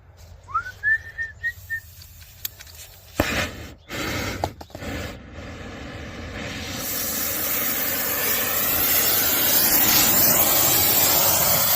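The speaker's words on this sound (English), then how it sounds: "We'll get this brazed up." Brazing torch on a heat pump refrigerant line, with a short whistle and a few clunks, then a steady broadband hiss that builds and holds loud and close to the end.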